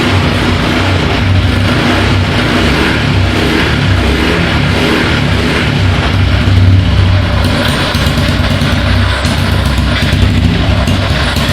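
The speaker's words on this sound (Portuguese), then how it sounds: "Tá meio fria, então a marcha lenta tá baixa." A Honda Biz engine fitted into a Dafra Zig 50 moped runs at a low, cold idle, a steady close rumble that holds continuously with no pauses or revving.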